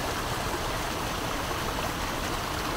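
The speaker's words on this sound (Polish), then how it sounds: "i już sobie woda pod dużym ciśnieniem spływa w dół" Constant rushing floodwater pours nearby under high pressure in Scotland, a dense, steady hiss and splash of a fast flow with no pauses or voices.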